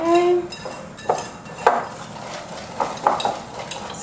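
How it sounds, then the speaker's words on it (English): A whisk stirs sugar in a bowl for vegan, gluten-free chocolate chip banana bread, giving scattered light clinks and taps of metal against the bowl over a soft background. "Whisk those together. Give them a nice whisk."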